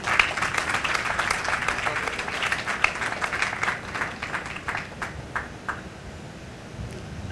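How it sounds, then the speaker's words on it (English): An audience at an Indian Independence Day celebration at an embassy residence applauds competition winners with steady, dense clapping that thins out and fades toward the end. "A big round of applause for the winners, please."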